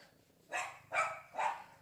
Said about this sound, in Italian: In sottofondo si sentono Oggi e Olivia che abbaiano